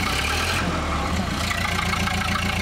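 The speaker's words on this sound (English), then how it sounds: "You boost the gas pedal." A Ford Model A engine with a 6-volt alternator runs steadily as the gas pedal is pressed, a loud, even low-pitched rumble with no pauses throughout.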